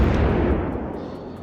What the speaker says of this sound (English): I will try to send some shots her way.